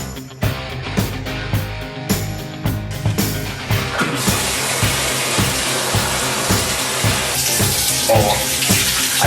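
Shower water runs steadily for the whole stretch, a broad hiss of spray under clattering splashes and knocks in the first few seconds, later settling into a denser, louder continuous rush with no voices.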